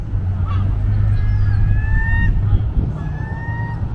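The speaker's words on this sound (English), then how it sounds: "waking up the seagulls every morning." Seagulls call near a houseboat in Ocean City, with several drawn-out, wavering cries one after another over a low, steady rumble of wind or water.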